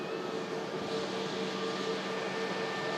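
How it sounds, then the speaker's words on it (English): An aircraft taxiing at Manchester Airport gives a steady jet engine whine with a sustained tonal hum over a broad rumble, moderately loud and unchanging. "as this aircraft that's just coming to taxi out"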